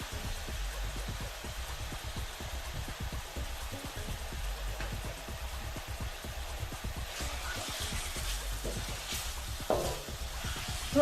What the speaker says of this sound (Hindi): अब मैं शामिल कर दूंगी चिकन और हमें इसको थोड़ा स्टीर फ्राई करना है जब तक इसका कलर ना चेंज हो जाए।